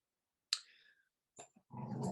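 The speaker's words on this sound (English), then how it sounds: "I have a new puppy and he doesn't ever stop playing." A new puppy plays nearby with a sharp yip, then soft scuffling, clicks and low growly noises in a quiet room, with no one talking.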